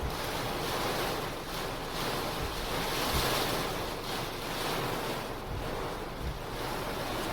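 Strong storm wind roars in continuous gusts around a car while driving, a loud broadband rush with buffeting surges and no voices.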